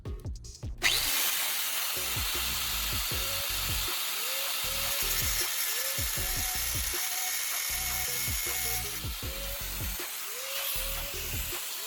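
Steady rhythmic rasping of a saw cutting through a metal turnbuckle body, stroke after stroke, close and loud, with a harsh high-pitched hiss throughout.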